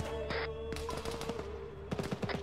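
A BTR armored vehicle's mounted machine gun fires in a video game, with rapid rattling bursts in quick clusters, fairly close over a steady mechanical hum.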